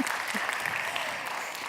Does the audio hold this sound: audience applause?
yes